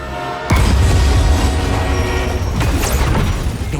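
A loud, continuous mechanical roar with heavy rumble and clatter of a brakeless train rushing past in the video game Marvel's Spider-Man 2, starting abruptly and holding steady throughout.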